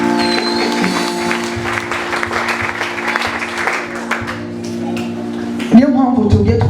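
Congregation clapping steadily and loudly through a church worship song, a dense continuous wash of applause under sustained music and voices, ending with a sharper burst.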